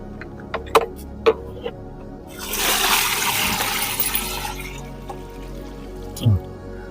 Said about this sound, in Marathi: आता ह्याच्यानंतर आपण पाणी ह्याच्यामध्ये टाकू शकतो.